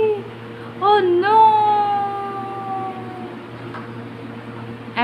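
A voice imitates an ambulance siren, rising into a wavering wail that slowly slides down and fades over a low background hum.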